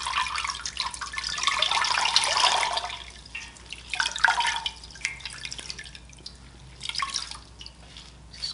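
Water drips and trickles steadily in bursts from squeezed wet yarn, a close splashing patter that swells, fades, then returns briefly, with no talking.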